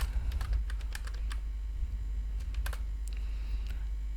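Keys clatter on a computer keyboard during a Python data-analysis coding session, with bursts of close, crisp clicks in an irregular rhythm over a steady low hum, with no voice.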